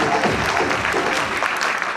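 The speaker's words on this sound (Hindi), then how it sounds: "जोरदार तालियां" Steady applause from a seminar audience in Delhi, dense clapping sustained throughout at an even level.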